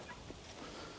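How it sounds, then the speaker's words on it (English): Guinea fowl call faintly in an avocado orchard, their cries soft and distant against a steady, noisy background. "look, Guinea Fowl have come to say hello"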